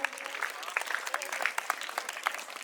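An audience at a school Independence Day celebration claps in brisk, scattered applause, a lively patter of individual hand claps close by.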